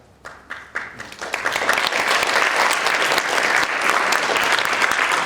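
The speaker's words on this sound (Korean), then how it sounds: "지금 박수 친 분들은 다 나중에" Audience applause at a political talk concert on an economic academy program, starting with a few scattered claps that swell into steady, dense clapping from a large crowd filling the room.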